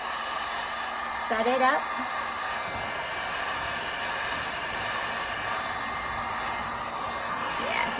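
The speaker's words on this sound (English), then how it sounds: "And then I'll hit it with the heat gun again." Heat gun blowing on alcohol ink on a piece of furniture, a steady close hiss of hot air running throughout, with a person briefly speaking over it.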